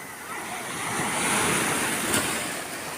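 Sea surf breaks on a public beach in Tuscany, a broad steady wash of waves swelling and easing, with wind buffeting the microphone and no voices over it.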